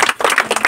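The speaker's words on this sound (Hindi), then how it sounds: "तालियां बजाएंगे" A quick burst of audience clapping in a welcome for children, with a dense patter of many hands, close and loud, over in under a second.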